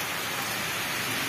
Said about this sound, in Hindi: और गाइस ये देखिए पूरा मेरा घर का तो बारिश से ही भीग गया।